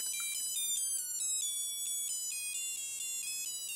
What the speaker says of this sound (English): As you fill up the cup, the liquid touches the two wires and completes a circuit, causing the device to play a sound.